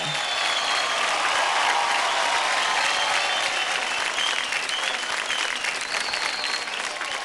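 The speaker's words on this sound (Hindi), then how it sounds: "रॉकिंग जोरदार तालियां हो जाए अनुदिता के लिए।" Loud, sustained applause and cheering from a television dance-show audience for young performer Anudita, a continuous crowd roar with no break.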